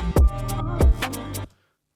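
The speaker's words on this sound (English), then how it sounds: "And over here, what I've done is I've created stutters with the 808, so it sounds like this." Stuttering 808 bass in a drill beat made in Logic Pro, with deep booming bass hits repeating quickly alongside bright hi-hat ticks for about a second and a half, then stopping abruptly into silence.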